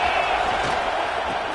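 Broad, steady roar of a big football stadium crowd at Auburn during an Oregon at Auburn game, a dense wash of voices holding at constant loudness with no single standout shout.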